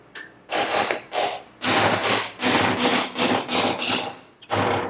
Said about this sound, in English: we're gonna get a hammer and a flat screwdriver. I'm just gonna break this seal here